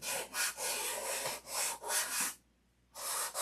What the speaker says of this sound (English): This is the last day of sanding.